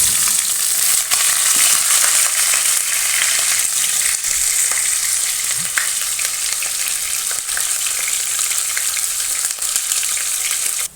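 Chopped onions and cumin seeds fry in hot oil, giving a loud, dense, continuous sizzle with scattered pops and faint clicks, close up and with no talking.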